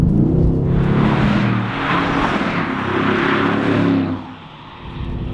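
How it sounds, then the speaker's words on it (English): A 2016 Mercedes-AMG GT S with a 4.0-liter V8 roars loudly under acceleration, its deep engine note rising and swelling, then dropping away briefly near the end. "Anyone who thought a 4-liter V8 was gonna sound bad in the new line of AMGs, you're wrong."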